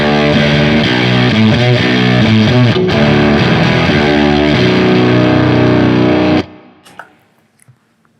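A baritone electric guitar with lipstick pickups plays a heavily distorted single-string riff, loud and thick with sustained notes and shifting pitch, cutting off abruptly into near silence with faint rustles at the end.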